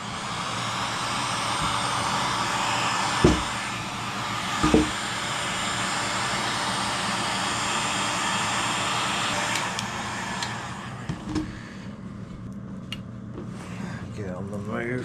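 Heat gun blowing a steady, fairly loud hiss of hot air over an old sticker on an abused dirt bike fork, running continuously with a couple of brief knocks early and small clicks toward the end.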